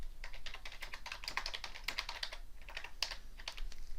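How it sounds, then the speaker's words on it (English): Someone types a message on a computer keyboard, producing quick, irregular keystroke clicks close by at a fairly low level, with a short pause midway. "I can go in and type a message"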